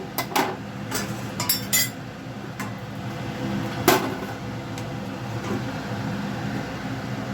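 A lid set on a pot of moong dal with pumpkin: a few sharp metal clanks and clinks near the start, then one louder clink, over a quiet kitchen background.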